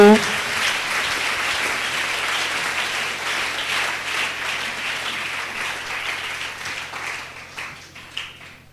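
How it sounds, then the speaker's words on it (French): Church congregation applauding loudly during a Sunday service, a dense steady roar of clapping and cheering that holds for most of the stretch, then thins toward the end with a few scattered claps. "Acclame très fort. Tobeti maboko."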